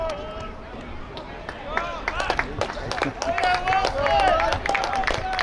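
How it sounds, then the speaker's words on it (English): Spectators at a high school boys' varsity soccer game, AC Flora vs Swansea, cheer and clap from the stands with scattered whistles and shouts, while a commentator talks over the crowd. "everybody cheering for Wilson"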